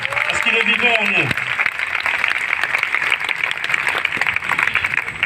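A congregation at a charismatic renewal youth day erupts in sustained cheering and applause, a dense steady roar that follows a brief raised voice and carries on unbroken.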